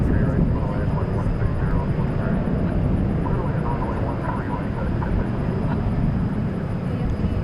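A FedEx plane passes over Fort Worth Alliance Airport, its engine noise a steady rumbling drone at moderate loudness with no distinct approach or fade.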